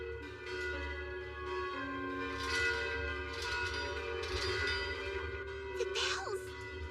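Alarm bells ringing out in an animated fantasy setting, a steady sustained bell tone with overlapping tolls that carries on continuously, with some shouting voices mixed underneath.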